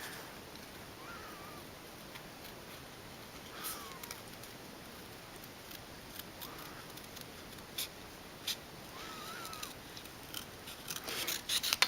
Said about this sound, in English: So I'm going to do some fussy cutting here, and I'm just going to cut my